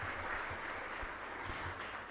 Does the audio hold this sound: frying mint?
no